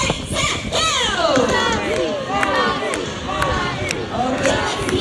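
An audience of girls cheering and shrieking during a bird ring race at a Manila Ocean Park bird show, with a dense crowd of excited high voices, near and loud, throughout.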